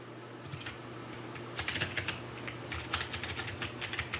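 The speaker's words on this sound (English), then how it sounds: "What are you typing?" Someone types on a computer keyboard at close range, quiet irregular key clicks that come in quick bursts with short pauses, with faint room hum behind.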